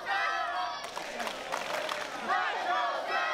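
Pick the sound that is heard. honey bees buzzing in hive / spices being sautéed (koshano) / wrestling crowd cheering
wrestling crowd cheering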